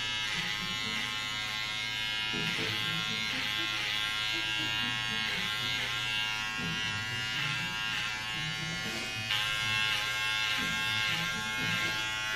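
Electric hair clippers buzz steadily and close up while cutting hair for a fade at home, with a constant high drone, small shifts as the blade moves through hair, and voices talking over it.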